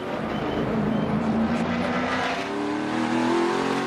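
A NASCAR stock car roars past at Chicagoland Speedway during a 2014 race, a loud engine drone that rises and falls as it sweeps by, with no talk over it.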